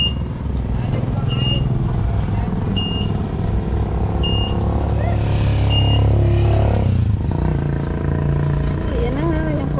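A car reversing on a village road, with repeated reversing beeps over a running engine, and people talking nearby.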